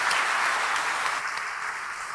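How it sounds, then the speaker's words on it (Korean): A church congregation at a Sunday evening service in Haeundae breaks into sustained, dense applause, loud and steady throughout with no voices over it. "박수 한번 다시 하십시다."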